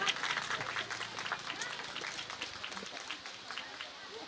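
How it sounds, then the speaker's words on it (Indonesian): Applause from an audience at a National Children's Day gathering, dense clapping that starts strong and slowly thins over several seconds, with voices in the crowd mixed in. "boleh kita berikan tepuk tangan?"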